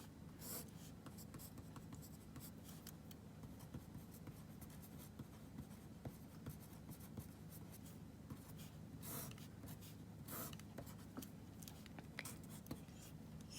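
A marker scratches and squeaks across a board while a table is drawn during a lesson on depreciation, quiet intermittent strokes and taps over a steady low background hum.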